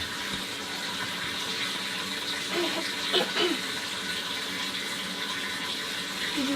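Water running steadily as long, narrow tanks are filled, a continuous broadband flow at moderate level, with no talk over it.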